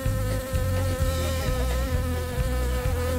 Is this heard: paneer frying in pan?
no